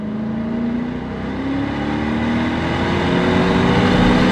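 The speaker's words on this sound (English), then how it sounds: "we got the V8 stuffed into this little car" A Lexus IS 500 with its V8 engine revving, a loud, steady, rising engine note heard from inside the car as it accelerates, building smoothly with no talk.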